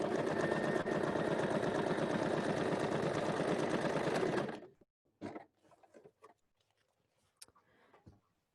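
A sewing machine stitches a 1 cm seam joining a streetwear front panel, running in a steady rapid whir for about four and a half seconds before stopping, followed by faint handling clicks and rustles of fabric.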